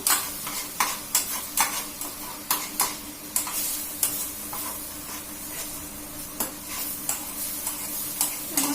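Spicy pasta sautéed and stirred in a pan for breakfast, with steady sizzling and frying under repeated sharp scraping and clinking of a utensil against the pan, fairly close and without talk.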